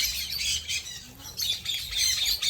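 Parrots at the Parrot Ville bird park in St Maarten let out repeated harsh, shrill squawks, loud and close, in uneven bursts.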